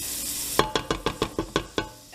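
Butter goes into a heated pot for freezer-meal noodle bake and chicken pot pie: a brief hiss, then a series of about eight quick, sharp scraping strokes from a wooden spoon in an even rhythm.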